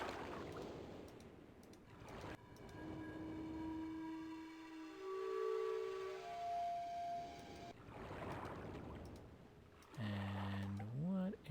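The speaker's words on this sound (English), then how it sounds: "now like low whistle noise" In the Myst video game, a low whistling tone rises and slides between sustained pitches, much like a distant siren or horn. It is layered over faint background noise and ends with a brief burst of stepped, wavering tones.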